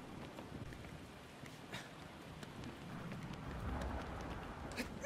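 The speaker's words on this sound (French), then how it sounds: "Il pleut, il y a des orages." Rain patters steadily on surfaces during a thunderstorm in the Shadow of the Colossus remake, a soft, continuous hiss with faint low rumbles, quiet and swelling slightly toward the end.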